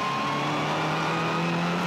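WTCC touring race cars lap the Hungaroring circuit with a steady, loud engine drone and a sustained high whine, a continuous wash of motor noise with no voices.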